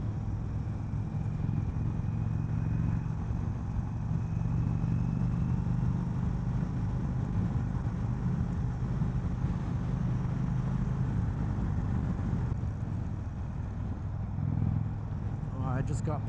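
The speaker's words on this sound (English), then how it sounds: "I forgot what it's like to fight wind like that" Steady, loud wind roar buffets a rider sitting upright on an Indian Springfield Dark Horse motorcycle at speed, a dense low rush that persists throughout with the engine's drone blended underneath.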